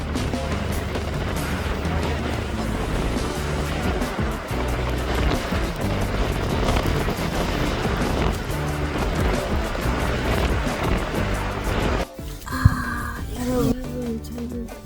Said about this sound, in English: this tiered waterfall is incredibly massive and powerful